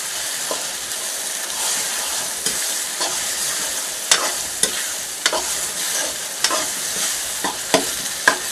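Tomatoes stirred into frying onions in a pan for fish curry, a steady oil sizzle broken by repeated sharp scrapes and clinks of a spoon.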